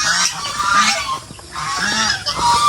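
Geese honk on a farm, a series of loud nasal calls repeating in quick bursts, close by with outdoor background noise and no talk.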